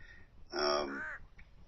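A parent bird at a nest caws loudly with a harsh, strained call lasting under a second, close by, followed by a brief faint note and quiet background.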